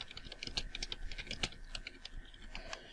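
Rapid, irregular clicks of fingers typing on a computer keyboard, close and crisp, in bursts with short pauses and no one talking.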